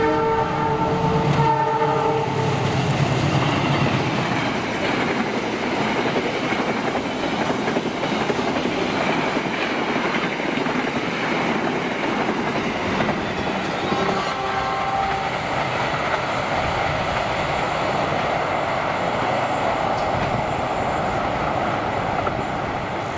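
Argo Parahyangan passenger train of the Indonesian railway PT KAI rolling past, a loud steady rumble of wheels and carriages with a horn blast near the start, continuing without pause for over twenty seconds.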